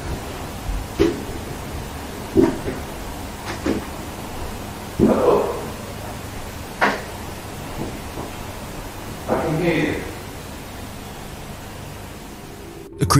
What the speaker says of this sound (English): creepy sound of someone walking can be heard on the fourth floor of the Viaduct Tavern